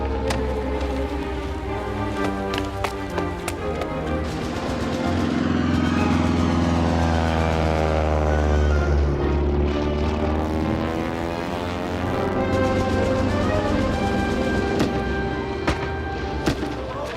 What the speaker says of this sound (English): German plane over the field!